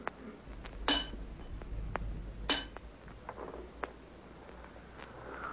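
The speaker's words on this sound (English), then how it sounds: "Leaving young Garrick chipping away" Radio drama effect of someone chipping away at a metal cylinder: sparse, light clinks and taps at irregular intervals, with a couple of sharper metallic knocks over a low background hum.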